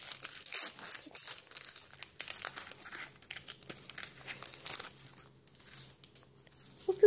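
Close, continuous crinkling and crumpling of a stiff card as it is handled, with irregular bursts of rustle over roughly seven seconds and no speech.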